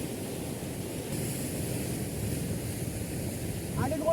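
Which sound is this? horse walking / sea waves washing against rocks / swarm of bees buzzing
sea waves washing against rocks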